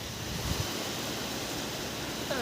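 Sea waves wash in at a deserted beach where a river meets the sea in Odisha, a continuous broadband roar of surf and wind holding steady and fairly loud for the whole stretch.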